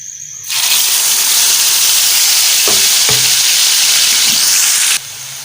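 Loud, continuous sizzling as a wet ground paste of onion, tomato, garlic and ginger hits hot ghee, with a couple of faint clanks of a utensil partway through before the hiss drops.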